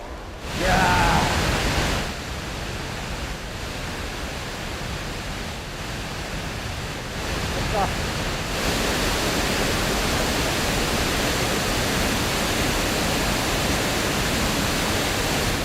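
Dense, continuous broadband roar of Iguazu Falls in Argentina, a steady loud wash of falling water that swells slightly after a brief dip at the start, with no talk over it.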